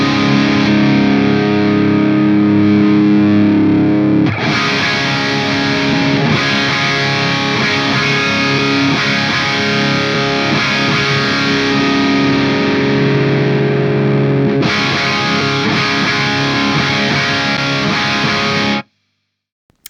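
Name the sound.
distorted electric guitar through Synergy Diezel VH4 amp module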